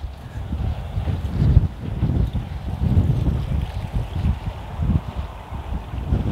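Blustery wind blowing outdoors, gusty low buffeting rumble against the microphone that rises and falls continuously, loud and close, no voices.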